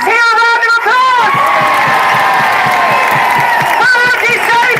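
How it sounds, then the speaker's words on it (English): A crowd at a lockdown protest in Trafalgar Square claps, cheers and whoops loudly and without a break, with a high whistle-like tone running through the noise. "Let's hear a round of applause."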